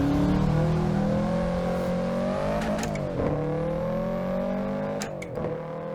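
A Subaru WRX tuned engine in Assetto Corsa on the Pikes Peak hill climb climbs smoothly through revs, its harmonics rising steadily, then drops sharply at several gear shifts before pulling again, loud and continuous with no talking.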